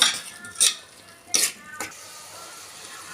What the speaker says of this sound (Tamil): இப்போ வெங்காயம் தக்காளி எல்லாம் போட்டு நம்ம வதக்கிட்டோம்